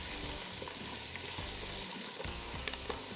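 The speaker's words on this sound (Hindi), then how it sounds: "हल्का सा फ्राई करना है बस।" Chopped red and green chillies fry lightly in a pan for arhar dal, giving a steady, close sizzle with occasional stirring scrapes and no talking.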